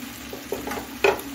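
Mixed vegetables sauté in a spice masala with cashew paste, a steady low sizzle close by, broken by brief stirring scrapes and one sharper hiss near the end.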